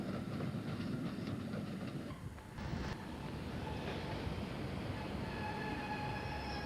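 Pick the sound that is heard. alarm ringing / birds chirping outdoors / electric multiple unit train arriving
electric multiple unit train arriving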